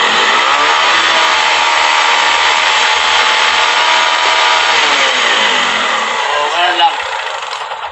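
A Bajaj Rouser 135 motorcycle engine, just repaired after a CDI fault, is held at high revs in a loud, steady whine with no cutting out, then eases down near the end.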